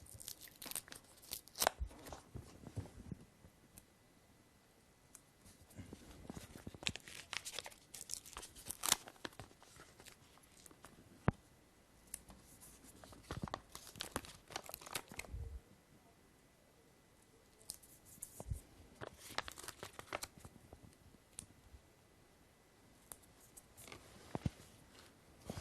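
Double-sided adhesive tape pads are handled and pressed into place while a replacement mirror is mounted. Faint crinkles, clicks and tearing bursts come and go in irregular clusters with quiet gaps between them, and nobody speaks.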